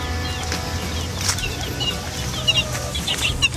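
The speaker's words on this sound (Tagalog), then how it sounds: "marami na yung bantam ko, oh" Bantam chickens cluck softly in a yard, with small, scattered clucks and chirps over a busy outdoor background and a few sharper calls near the end.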